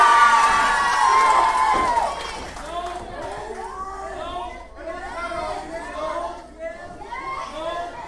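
At a professional wrestling event, fans in the crowd whoop and cheer while an announcer talks over them, with a burst of crowd noise first and then a string of scattered high whoops and calls.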